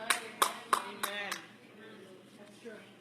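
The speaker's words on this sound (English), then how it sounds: "Don't clap now. Clap later at your own house." A few members of a church congregation clap in a short, scattered burst of about five sharp claps that quickly die out, followed by quieter room sound and a speaking voice.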